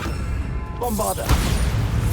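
A Bombarda explosion spell from Hogwarts Legacy goes off as a single close, forceful blast with a bright crackling burst and rumble, following a softer magical shimmer, over steady in-game ambience.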